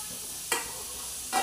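Carrots, green chilies and tomatoes sizzle on a hot tawa for street-style tawa pulao, a steady hiss with two brief stirring scrapes of the spatula.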